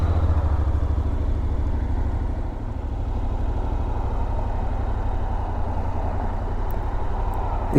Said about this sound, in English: This bike is very well balanced at slow speed